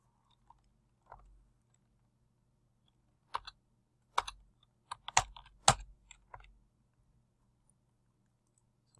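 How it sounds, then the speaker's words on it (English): Scattered keystrokes on a computer keyboard come in small sparse bursts of clicks, close and quiet against near silence, with long pauses between clusters. "Sometimes just type it over again."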